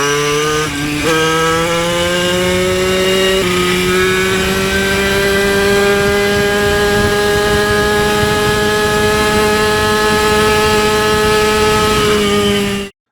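A small billet bicycle engine screams at high revs, holding a steady, buzzy whine after a quick blip at the start and a step up in pitch partway through, then cutting off abruptly. It is loud, close and alone.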